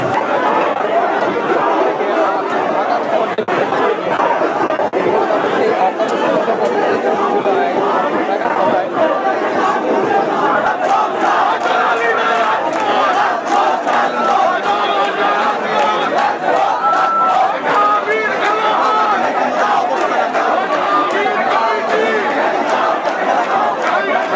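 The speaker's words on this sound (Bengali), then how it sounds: "তারা ওই পাশে স্লোগান দিচ্ছেন" Students chanting slogans during a campus clash at Modhur Canteen, a loud, dense crowd of many voices shouting and chanting together, steady and close throughout with constant chatter mixed in.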